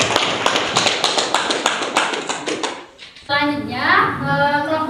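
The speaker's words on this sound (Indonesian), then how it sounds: "Tepuk tangan untuk Andini." Applause in a classroom for a student named Andini, a burst of rapid, close clapping from many hands that stops after about three seconds, followed by children's voices chattering.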